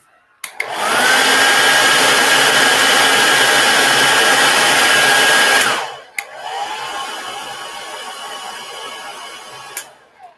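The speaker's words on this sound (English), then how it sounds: "maybe I'll just go with hairdryer one more time" A hair dryer blows loudly for about five seconds with a steady whooshing whine, clicks off, then runs again at a quieter lower setting before a final click.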